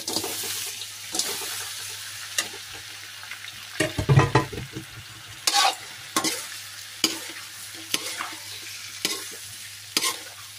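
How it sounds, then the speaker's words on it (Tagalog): Shrimp hit a hot pan with a burst of loud sizzling, followed by a continuous frying hiss and repeated scraping stirs at roughly regular intervals, with no voices. "ilagay ko na ang aking shrimp guys"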